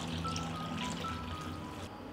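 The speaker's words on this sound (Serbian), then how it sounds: "U šerpu sipam hladnu vodu do visine poklopca." Cold water is poured into a pot lined with a cloth and holding glass jars, a soft continuous trickle and gurgle that fills the short stretch, close and fairly quiet with no talk.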